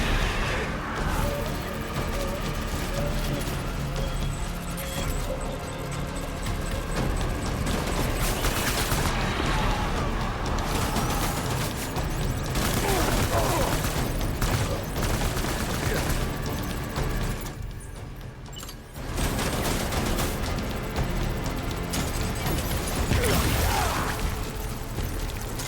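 Blood bullet gunfire in Death Stranding, dense rapid shots and crashing impacts filling the clip continuously, loud and busy with brief lulls.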